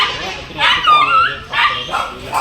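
Puppies at a dog kennel give a few close yips and whimpering barks in two or three short bursts, fairly loud; no talking.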